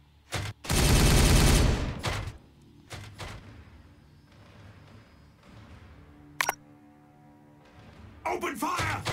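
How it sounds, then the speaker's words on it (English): Gunfire in the strategy game Warhammer 40K Regicide, a loud sustained burst of automatic fire up front followed by scattered shots, clanks and a sharp crack, with game sound effects between. "Firing on target."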